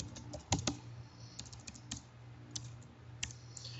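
Computer keyboard typing code, a quiet run of irregular key clicks with a few sharper presses, close by and with no voice.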